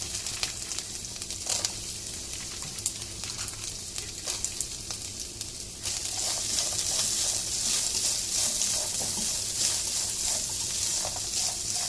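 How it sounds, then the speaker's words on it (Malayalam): Steady crackling sizzle of coconut pieces frying in hot oil, loud and continuous, growing denser and brighter partway through. "ഇതിനാവശ്യമായിട്ടുള്ള തേങ്ങാക്കൊത്ത് വറുത്തെടുക്കാം."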